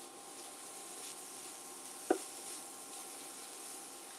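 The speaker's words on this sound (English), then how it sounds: "We all like that sizzle sound." Cabbage and onions fry in a pan, giving a faint, steady hiss of sizzling with one brief clink partway through, quiet and continuous with no talking.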